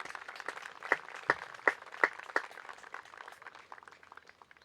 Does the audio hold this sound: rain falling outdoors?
no